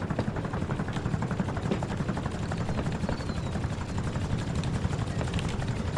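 Helicopter circling close overhead in a video game base-raiding match, a dense steady rotor thrum that fills the whole stretch with no break, loud and continuous with faint scattered clicks above it.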